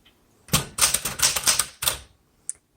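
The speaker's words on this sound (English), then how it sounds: "These are not computers, they are typewriters." A 1972 Smith Corona Classic 12 manual typewriter is typed on: a quick burst of about seven crisp, close keystrikes in uneven rhythm, then a pause and one last sharp clack.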